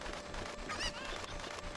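Cucco chickens in the Ocarina of Time video game, heard as a brief honking, clucking fowl call over a steady game background, with no talk.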